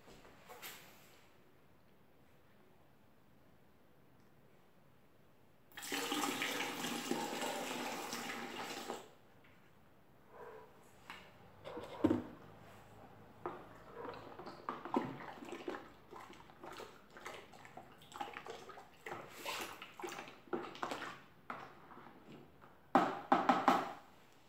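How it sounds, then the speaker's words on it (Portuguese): One litre of hot water is poured out in a few seconds as a steady splashing rush, followed by quieter clinks, taps and handling sounds in a home kitchen. "eu vou colocar 1 litro de água quente"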